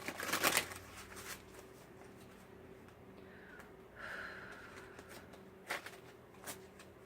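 Quick riffling bursts of tarot cards being shuffled, a loud flurry at the start and a few shorter shuffles later, with soft breathing in between.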